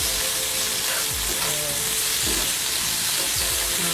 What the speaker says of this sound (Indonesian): tambahkan daging yang udah disiapkan, daging sapi secukupnya